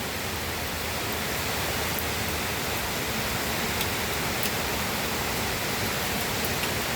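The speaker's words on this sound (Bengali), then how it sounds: "শ্রাবণের বর্ষণ, শ্রাবণের বৃষ্টি, প্রচুর বৃষ্টি হচ্ছে" A downpour of monsoon rain falls on a waterlogged garden and road outside a hall, giving a constant, close wash of hiss with faint scattered drop ticks and no talking.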